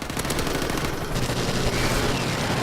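A G36C assault rifle fires in Modern Warfare Remastered as a dense, loud burst of rapid gunfire that runs without pause, with no voices.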